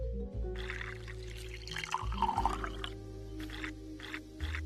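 Drink being poured in The Mixologist VR bar game on Meta Quest 3, a faint liquid pour and trickle over low background hum, with brief clinks.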